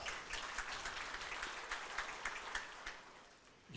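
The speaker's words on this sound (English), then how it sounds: "You got applause." Audience applause following a speech at a conference on green transition and sustainable development, sustained clapping from a sizeable crowd, even and moderately distant, easing slightly toward the end.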